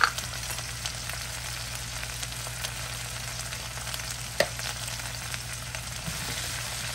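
Minced garlic and a little turmeric sautéing in a hot pan give a steady, close crackling sizzle throughout, with one brief sharp tap partway through and no talking.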